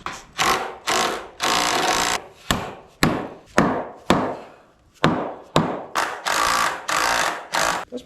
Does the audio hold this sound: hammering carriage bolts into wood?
yes